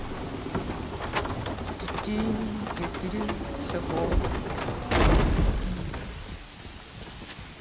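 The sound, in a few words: rain and thunder in the video game God of War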